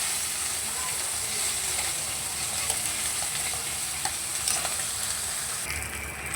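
Fish, flipped so the second side browns, frying in a pan of hot oil with a steady, soft sizzle and hiss, with occasional light clinks and a few faint spatters.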